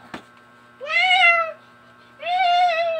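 A cat meows twice, each a clear, drawn-out call with a pause between, close by, after a brief tap at the start.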